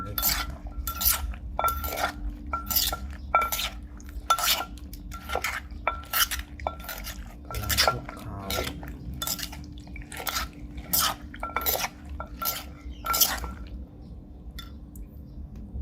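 Spicy pork sausage salad pounded in a mortar: steady rhythmic thuds and wet squishes, about two per second, close and even, over a low hum, ending in quieter scattered taps.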